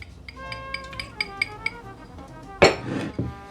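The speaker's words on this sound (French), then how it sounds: "une fois que votre verre est bien refroidi, vous retirez le glaçon" Glass and ice clink lightly several times in an evenly spaced run as ice is lifted from a chilled cocktail glass, followed by a louder rattling clatter near the end; no voices.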